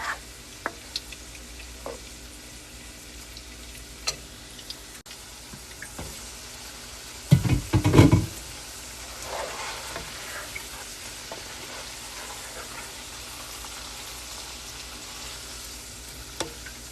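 Marinated chicken dropped into a pan of spiced masala, a loud burst of sizzling and stirring clatter midway over a quieter background of faint clicks and low frying hiss.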